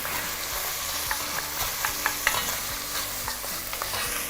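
Potato slices fry in a pan, crisping like chips, with a steady close sizzle and light scraping stirs and small pops throughout.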